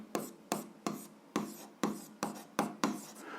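Handwriting out a 7th-grade algebra solution: eight or so quick, evenly spaced pen strokes scratching across paper, close and quiet, with no one talking.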